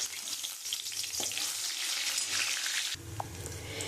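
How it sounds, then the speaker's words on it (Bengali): Dry red chilli, bay leaves, cumin and whole garam masala hit hot mustard oil left from frying fish, giving a loud, steady close sizzle that shifts in tone partway through as the spices settle. "আমি ওই মাছ ভাজার তেলের মধ্যেই আমি শুকনো লঙ্কা, তেজপাতা, জিরে আর গোটা গরম মশলা"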